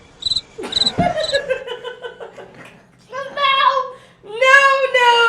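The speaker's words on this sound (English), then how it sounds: "Make sure you bring the crickets in on this." Cricket chirps in steady trilling bursts, fairly close and clear, with a voice and light giggling over them.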